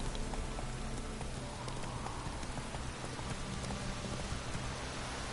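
Roach, the horse in The Witcher 3 video game, clip-clops along steadily under a constant wash of rain, hooves beating in an even rhythm close by through the whole stretch.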